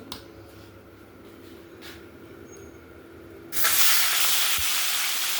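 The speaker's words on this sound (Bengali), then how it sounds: "মাছগুলো সব ভেজে নেব" Rui fish pieces rubbed with salt and turmeric frying in hot oil in a kadai: a quiet low hum gives way to a sudden loud, steady broadband sizzle as the fish hits the oil, with a sharp clink midway.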